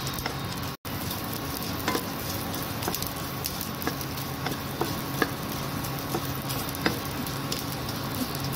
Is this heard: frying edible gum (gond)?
yes